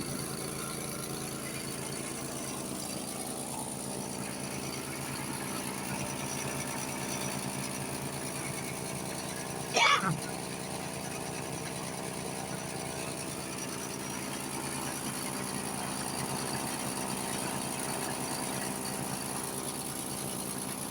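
A Honda snowblower engine runs steadily while the machine drives forward and backward, a constant mechanical drone with one brief louder clank partway through and no talking.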